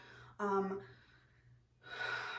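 During an acting warm-up breathing exercise, a voice gives a short sharp vocal sound, then a long audible deep breath draws in and out, close and quiet.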